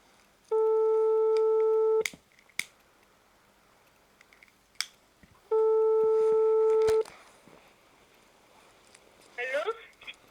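Landline telephone ringing for a call to the French Antilles: two long electronic rings with a pause between them, clear and steady, followed by a faint voice near the end.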